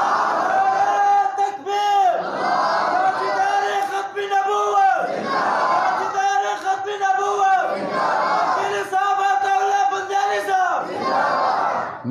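A large crowd at a religious gathering chants slogans in loud, repeated bursts, with voices swelling together in several waves and short breaks between them.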